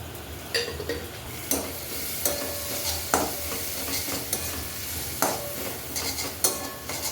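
Cumin and spices fry in a hot pan, a steady sizzling hiss broken by repeated scraping knocks of a spatula stirring against the metal, close up and without talk.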